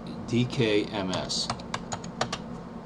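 Quick taps on a computer keyboard follow a brief stretch of talking, with close, irregular key clicks during an Ubuntu software install.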